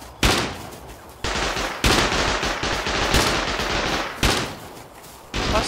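Sustained automatic AK rifle fire in the survival game Rust, long loud bursts with brief gaps, close and dominating the scene.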